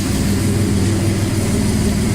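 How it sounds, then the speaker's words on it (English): A Dodge Dakota's 3.9 engine, running on a Megasquirt fuel-injection setup, idles with a steady, loud, low rumble that holds even and unbroken throughout. "It's idling pretty well right now."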